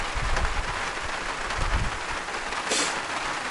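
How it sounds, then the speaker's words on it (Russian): Steady rain patters outdoors near a fishing boat and cabin, a dense continuous hiss with low rumbling underneath and a brief brighter splash toward the end, no voices. "подождем, может дождь закончится"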